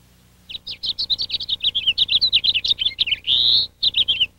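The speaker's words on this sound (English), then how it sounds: "A flock of house finches can empty the seed from a feeder in a few hours." House finches at a backyard feeder chirp in a rapid, close, loud run of bright warbling notes, one sustained trill near the end, then more quick chirps.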